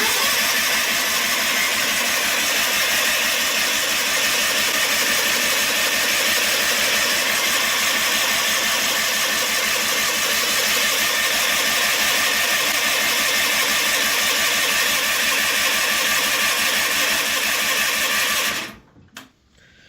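A John Deere lawn tractor engine, cold, is cranked by its starter in a long steady whirring drone that runs about eighteen seconds at close range, then cuts off abruptly, with no talk.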